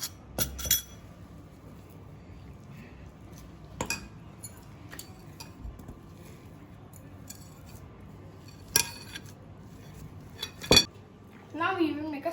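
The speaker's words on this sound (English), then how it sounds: "Now we will mix it very well." A spoon clinks and scrapes against a bowl while a potato snack mixture is stirred, sparse sharp taps with quiet stirring in between.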